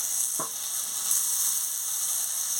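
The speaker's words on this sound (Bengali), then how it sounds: "কিমা দিয়ে ভালো করে আলু বেগুনের সঙ্গে ভেজে নিচ্ছি।" Minced meat fries with potatoes and eggplant in a pan, giving a steady close sizzle with a brief scrape of stirring.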